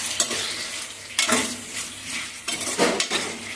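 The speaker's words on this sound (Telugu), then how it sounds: "మిక్స్ చేసుకొని ఆ ఉప్పు కారం పసుపు ముక్కలకి బాగా పట్టేలాగా కలుపుకోవాలి" Taro root pieces being mixed with salt, chili powder and turmeric for an arbi curry, giving a few broad scraping, stirring bursts at moderate loudness with quiet pauses between, no talking.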